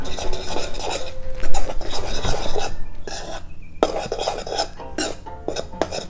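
A utensil scrapes and stirs through flour and baking soda in a bowl while mixing Irish soda bread dough, a close, continuous gritty rasping with short pauses between strokes.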